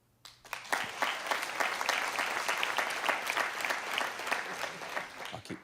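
A comedy show audience breaks into steady applause, dense rapid clapping rising quickly and holding at a moderate, even level with no talk over it.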